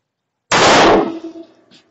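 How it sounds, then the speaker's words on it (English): A single sharp, loud shot from a SIG P226 pistol firing .357 SIG Federal HST 125-grain rounds during a ballistic test, a sudden blast followed by a quick decaying echo. "we got our P226 to shoot these lovely ladies out of"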